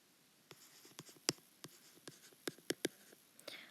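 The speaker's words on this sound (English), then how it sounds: "So I'm going to write," A pen writing on paper during a math worksheet, heard up close as a series of quick, crisp taps and short strokes spaced irregularly, with no talking.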